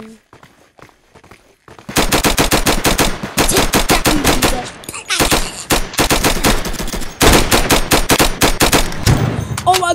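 Video game gunfire rattles in loud, rapid automatic bursts after a quiet opening, with brief pauses between volleys and no speech heard.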